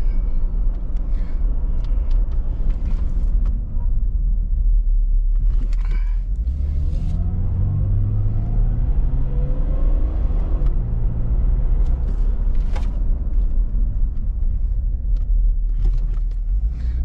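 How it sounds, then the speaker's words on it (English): An old car driving while its brakes are stomped hard to seat them, a loud low rumble of engine and road noise throughout, with a few sharp squeaks and clunks rising above it. "Now we need to do a couple good brake stomps."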